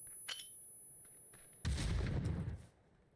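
A grenade explosion in a first-person shooter video game: one loud, close, low booming blast that lasts about a second, after a few faint clicks and a quiet background.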